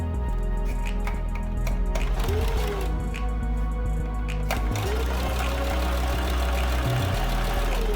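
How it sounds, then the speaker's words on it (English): Sewing machine with a roller presser foot stitching stretchy fabric and felt, a loud continuous motor whir running close and steady with a few brief shifts in pace. "So you will notice there is no difficulty as I sew."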